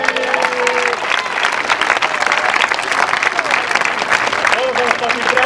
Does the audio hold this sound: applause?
yes